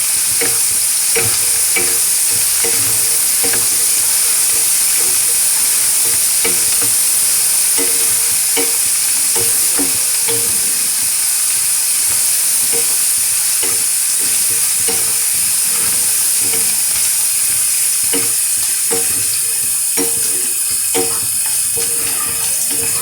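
Loud continuous sizzling from a hot pan of frying spices and green chillies, with occasional scraping and stirring sounds, close by and without talk.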